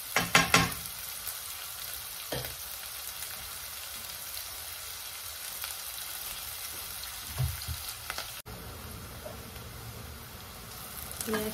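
Onions fry in a pan until reddish-brown, giving a steady, soft sizzle throughout with a few light utensil knocks near the start and again partway through; no one speaks.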